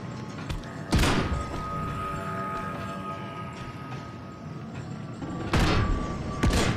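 Gunfire in the Switchback PSVR2 video game: a few sharp, loud single shots spaced apart over a steady rumbling game background, with no talking.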